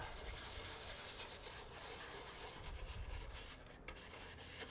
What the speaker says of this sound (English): Directions suggest that you scrub in a circular pattern.